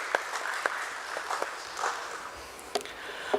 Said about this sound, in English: A nice big round of applause, ladies and gentlemen, for Mr. Deepak Kaushik